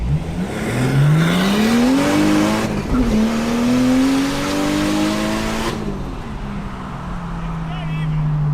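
A 2.5 liter turbo Toyota Chaser launches hard at a race, its engine rising through the revs with a brief bog and gear shift, loud and close, with voices audible in the background.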